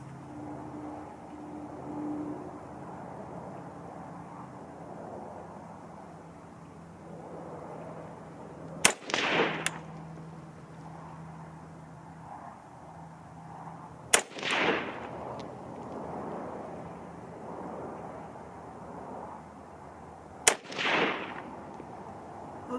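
Three sharp, loud 6.5 Grendel rifle shots firing 95-grain VMAX rounds, spaced several seconds apart, each crack followed by a short echoing tail over quiet outdoor background.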